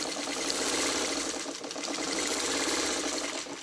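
A sewing machine stitches a quilt block, a close, loud, steady mechanical whirr with fast rhythmic needle chatter running the whole time.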